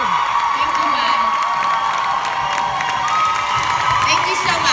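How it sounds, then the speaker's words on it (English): Applause and cheering from a large pop culture convention audience, a dense, steady roar of clapping and whoops that holds level for the whole stretch. "I think we should give her the biggest round of applause"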